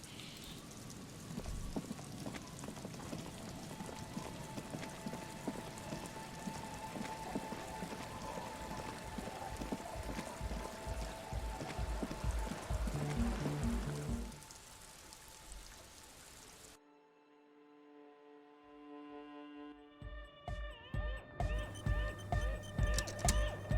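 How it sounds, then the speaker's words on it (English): Steady rainfall in the video game Disco Elysium patters continuously, then the rain suddenly cuts out into quieter tones before rhythmic patter returns. "It's raining still."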